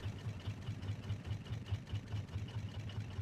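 Boat motor on a raft in the video game Raft, a steady low chugging with a regular rapid pulse, moderately quiet and continuous.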